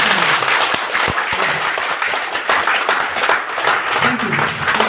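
An audience applauds a chief guest, mentor Doctor Uday, at a hotel event in Purnia; dense, sustained clapping from many hands rings out loud and close for the whole stretch.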